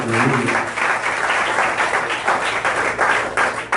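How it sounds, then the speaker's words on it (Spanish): Congregation at a church service applauding, a dense, steady wash of many hands clapping throughout, with a voice briefly audible at the start. "Vamos a darle un aplauso al Señor en esta hora por esto."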